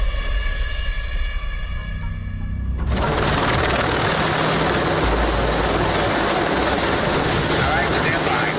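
Low-flying helicopters over closed city streets during an action film shoot, a loud rotor roar that suddenly swells into a broad, sustained wash of noise, with voices faintly beneath.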